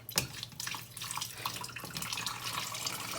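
Hot water being poured into a pour-over coffee maker, a continuous close splashing, trickling pour with a few drips, messy and uneven throughout.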